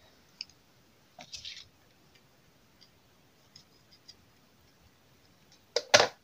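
Paper for scrapbook matting is cut in a few brief, crisp snips and clicks that stand apart in near silence. The last cut, near the end, is the loudest.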